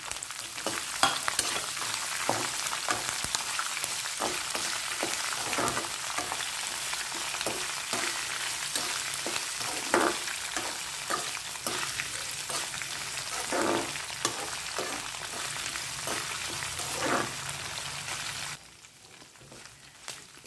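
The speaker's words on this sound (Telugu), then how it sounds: "కట్ చేసి పెట్టుకున్న పచ్చిమిరపకాయలు అలాగే అల్లం ముక్కలు కూడా వేపుకోవాలి" Cut green chillies and ginger pieces frying in oil for pulihora, a dense, steady sizzle with frequent soft clicks of stirring, close and continuous before dropping away near the end.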